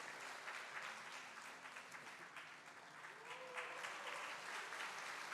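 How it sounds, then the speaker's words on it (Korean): Steady applause from a church congregation at a Korean Sunday worship service, even and continuous, with faint voices underneath. "우리 박수로 축하해 주시기 바랍니다"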